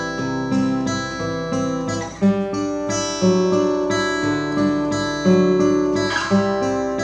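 Fingerpicked guitar pattern with the thumb now adding the third string, a steady rolling run of plucked notes played close and clear, with no talking.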